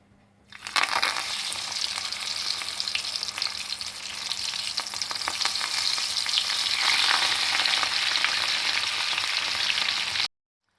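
Bhakarwadi, the Maharashtrian coriander rolls, deep-fry in hot oil with a loud, steady bubbling sizzle that kicks in suddenly and swells slightly before stopping abruptly.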